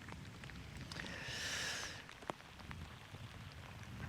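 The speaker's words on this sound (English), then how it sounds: "just really hoping this drizzle would just calm down, but if anything, it's kind of just set in" Steady light drizzle falls while camping and fishing aboard a small skiff: a soft, even patter of rain on the surface, faint and continuous, with one brief sharp knock partway through.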